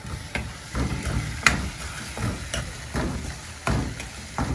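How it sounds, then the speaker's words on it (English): Spoon stirring a chili-seasoned sauce for crispy fish, rhythmic scraping strokes in a bowl repeating about twice a second, close and moderately loud with no talk. "Now we'll mix this."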